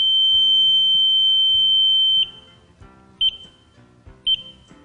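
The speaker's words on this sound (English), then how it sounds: "The long beep indicates a short occurred." ES Short Buddy ESI-230 short tester on a truck trailer connector giving one long, loud, piercing tone that cuts off, followed by two short beeps at about one-second intervals.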